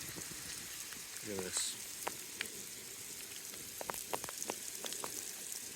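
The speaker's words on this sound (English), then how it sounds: "That is some serious hail right there." Hail falling hard on a roof and surfaces during a spring hailstorm in a town, a dense steady patter of hits with sharper individual clacks, heard close with a brief voice over it.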